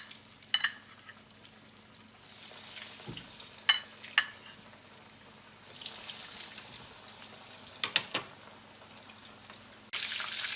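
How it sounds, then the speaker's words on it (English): Scotch eggs fry in hot oil with a soft continuous sizzle, broken by a few sharp pops and utensil clinks as they are moved, close by and with no talk. "our oil is up to temp, so we're going to start some magic and start frying"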